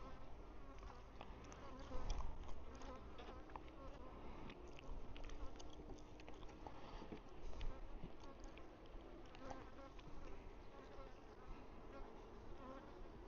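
Honey bees buzz thickly and continuously around an open hive during an inspection and feeding, a dense close drone that fills the whole stretch with no clear speech.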